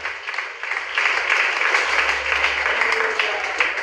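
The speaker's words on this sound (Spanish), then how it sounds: "Dale una ofrenda de palmas al Señor, con todo, pero con todo el corazón." A church congregation gives sustained applause, a dense wash of many hands clapping steadily and fairly loudly, with voices mixed in beneath the clapping.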